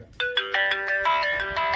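A phone ringtone plays a bright, repeating electronic melody of quick notes, loud and close, with no talking.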